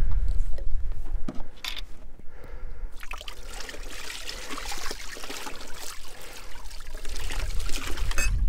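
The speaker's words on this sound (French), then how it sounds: "maintenant, tout simplement, je vais venir rincer au-dessus de ce seau" Water from a watering can pours and splashes steadily over a beehive board held above a bucket, a continuous close trickle with small splashing variations and no talk.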